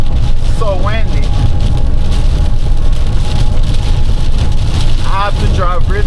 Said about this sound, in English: And of course it's raining hard.